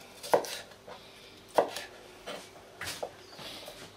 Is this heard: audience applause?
no